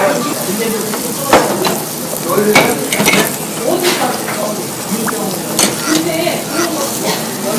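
Steady crackling sizzle of meat cooking on a hot grill pan at a Korean barbecue restaurant, with scattered scrapes and clinks of utensils and faint voices in the background.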